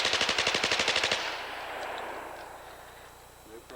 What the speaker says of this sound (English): This is a .30 caliber heavy machine gun.